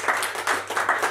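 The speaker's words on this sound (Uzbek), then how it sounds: "Qani qarsakinglar." Audience applause at a stage show, a brief burst of many hands clapping in rolling waves, fairly loud and close, with no talking over it.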